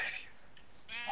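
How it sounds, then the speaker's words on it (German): Two short sheep bleats from the Minecraft video game, the first at the start and the second near the end, close and clear with a quiet gap between them. "Dumme Schafe, verzieht euch, lasst meine Hühner in Frieden."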